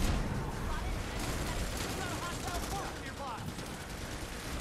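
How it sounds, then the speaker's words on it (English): Rapid shotgun blasts and dense gunfire in the PlayStation 4 shooter Planetside 2, set in a biolab battle. The shots come as a continuous, loud, gritty barrage throughout. "Shotgun! Shotgun! Shotgun!"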